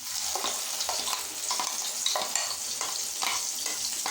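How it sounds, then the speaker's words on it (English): Onion paste sizzling loudly in a pan of fried jeera for a tomato aloo kurma, a steady crackle broken by repeated scraping stirs, close up with no talking. "Now to this we have to add the onion paste."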